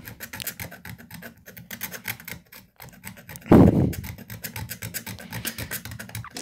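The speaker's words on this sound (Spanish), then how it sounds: "Vamos a raspar acá. Vamos a rasparlo bien." Scraping on the metal chassis of a microwave oven transformer to clean it: a steady close rasping and rubbing, with one louder, heavier scrape midway through.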